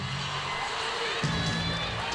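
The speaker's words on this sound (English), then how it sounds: "a really nice crowd here tonight" A packed basketball arena crowd at the Lloyd Noble Center cheers during a UConn women's game at Oklahoma, a steady broad roar that swells louder partway through, with faint voices buried in the din.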